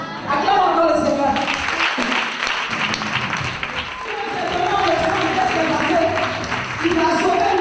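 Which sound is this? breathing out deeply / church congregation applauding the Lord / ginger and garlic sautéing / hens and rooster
church congregation applauding the Lord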